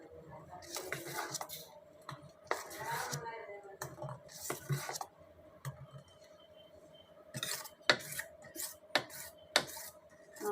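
Oats dosa batter being mixed in a bowl, with irregular clinks and scrapes of a utensil against the bowl, some sharp and close, others softer, over a quiet background with no talking.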